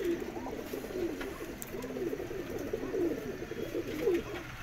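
A French pigeon coos in a series of soft, low rolling calls repeated several times over a faint background hum, close by and without any talking.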